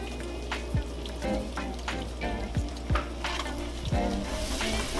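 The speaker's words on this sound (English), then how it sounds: "Go ahead and get everything all mixed." Seasoned macaroni and cheese sauce mixed in a pan, with soft wet scrapes and squelches over a steady low hum and hiss.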